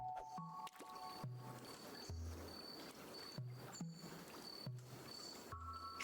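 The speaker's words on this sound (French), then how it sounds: "L'eau remue." Water stirring during fishing in the video game Carto: soft, wet squishing and gurgling in a repeating game audio loop with regular pulses and brief tonal notes, steady and moderately quiet.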